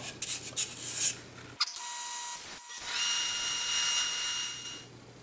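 A power sander works a turned wooden bowl through 120, 220 and 400 grit, giving a steady whirring hum close by, broken by short gaps where the tool pauses or lifts off the surface.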